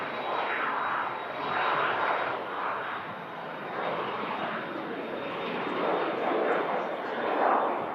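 Brussels Airlines plane in Red Devils livery moving at an airport, a continuous mid-distance engine roar that swells and eases in gentle waves, with no talk over it.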